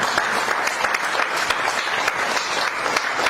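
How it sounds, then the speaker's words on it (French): An audience applauds as a speaker is welcomed onto the stage at a televised event, a dense, loud, continuous patter of many hands. "Sous vos applaudissements."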